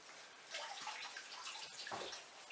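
Tap water runs in a kitchen sink over freshly boiled eggs to cool them, a soft splashing flow with gentle gurgles and a brief drip, quiet and close.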